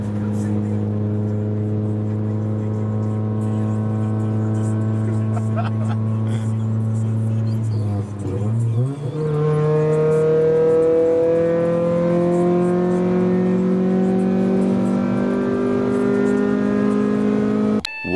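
A Honda Accord wagon drives along the road, its engine droning steadily and close, briefly dipping near the middle before pulling up again as it gathers speed.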